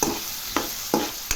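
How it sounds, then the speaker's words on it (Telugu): Onions sizzle steadily in a pan while a utensil scrapes and stirs them, making three or four quick, close strokes over the continuous frying hiss. "ఆనియన్స్ ఇప్పుడు ఫ్రై చేసుకోవాలి."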